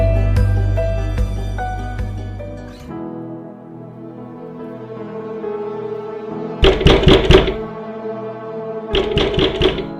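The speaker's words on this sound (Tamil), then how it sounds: "யார் இந்த நேரத்துல கதவு தட்டுறது?" Two bursts of sharp knocking on a door at night, each a quick cluster of four or five raps, loud and close, following a stretch of music and low room tone.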